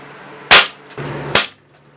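A Crosman 362 air rifle fires a hollow point pellet through a chronograph, giving a sharp, loud crack, then a brief mechanical clunk and a second sharp report that quickly fades.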